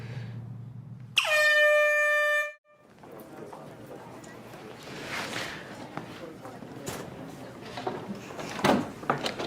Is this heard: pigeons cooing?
no